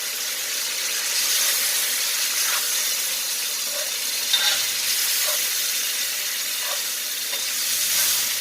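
A can of diced tomatoes with their juice poured into a hot pan for a quick keto chili, giving a steady, close sizzle and bubbling hiss with faint stirring scrapes throughout.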